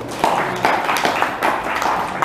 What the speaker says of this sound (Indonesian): Tepuk tangan untuk ibu-ibu yang handal di tempat ini.